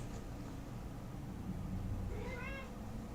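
A cat meows once, a short rising-and-falling cry heard over a steady low hum of room noise during a Magic: The Gathering card game session.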